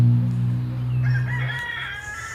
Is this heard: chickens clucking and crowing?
yes